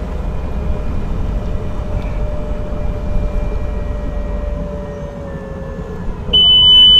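A Watercar amphibious vehicle sounds a steady electronic alarm tone as its wheels come down, a sustained beep rising suddenly louder near the end over a constant low engine rumble.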